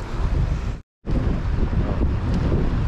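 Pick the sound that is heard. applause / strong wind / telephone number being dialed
strong wind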